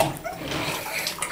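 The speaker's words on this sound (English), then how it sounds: "Jack, turn that off. Yeah, you're wasting water." Water runs from a tap into a bathtub, a steady broadband hiss and splash filling the whole clip at moderate, even loudness.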